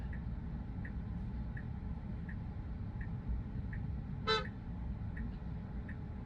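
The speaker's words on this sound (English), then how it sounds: "And we're getting some honks here." A single short car horn toot sounds once over a low, steady traffic rumble, with faint regular ticking like a turn signal in the background, heard from inside a Tesla driving in traffic.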